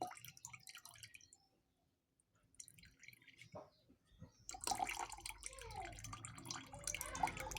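Soaked seeds squeezed by hand after a day in water, releasing drips and trickles that turn busier and wetter in the second half, close and fairly quiet, with a short lull before.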